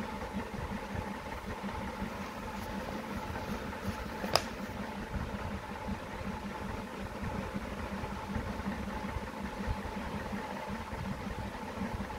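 A horizontal internal combustion engine runs steadily at idle, a continuous mechanical hum with a faint rattle and one brief sharp click partway through; no voices.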